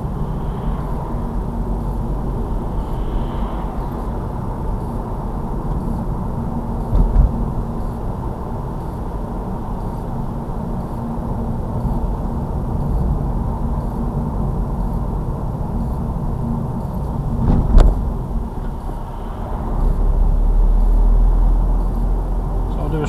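A learner car driving around a roundabout gives a steady low engine and road rumble from inside the cabin, with a brief thump and rising noise near the end.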